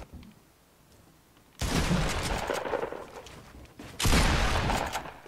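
Gunfire in the video game Fortnite, two sustained, loud bursts of rapid shots close up, the second starting even harder after a short gap.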